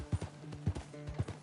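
A horse in Red Dead Redemption 2 moves with a quick, regular clip-clop of hooves, about four beats in a short burst, close and fairly soft.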